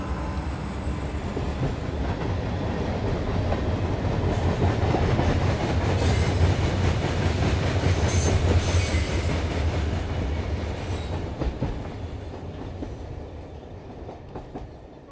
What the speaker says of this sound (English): what's that train whistle doing there?